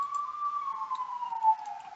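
A single siren, like a police car's, sustains one steady wailing tone that glides slowly downward, fairly clear and unbroken with no talk over it.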